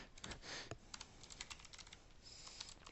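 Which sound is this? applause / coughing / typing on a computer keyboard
typing on a computer keyboard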